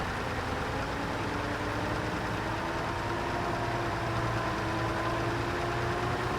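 A truck engine in the video game Repair Works idles steadily with a low droning rumble and a faint whining tone, continuous and unchanging, with no voices.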